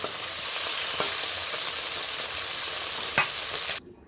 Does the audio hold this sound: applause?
no